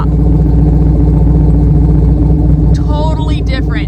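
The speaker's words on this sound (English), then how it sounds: "just listen to the 426. So you can definitely tell this thing has a cam." A 600hp 426 Hemi V8 in a Jeep Wrangler idles loudly up close with a deep, lumpy, choppy cam rhythm; a person talks briefly over it near the end.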